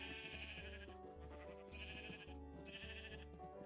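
Sheep in Minecraft bleat in repeated, evenly spaced cries, clear and upfront with nothing else around them.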